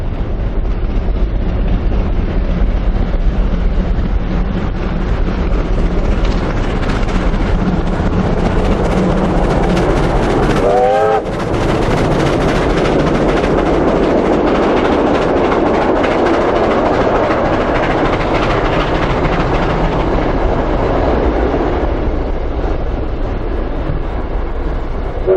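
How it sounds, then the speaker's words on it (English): Steam locomotive R761 hauling a chartered train rumbles past loudly and continuously, a heavy churning roar with wind buffeting the microphone and a brief whistle-like tone midway. "R761 and a small load steams north to Seymour with a specially chartered train"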